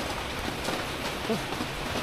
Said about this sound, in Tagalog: Ayan, umuulan, oh.